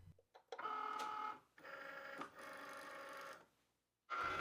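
Cricut cutting machine slicing Cricut Everyday Iron-On vinyl on a mat with a fine point blade, quiet bursts of motorized whirring and buzzing with a high whine, broken by short pauses as the carriage moves.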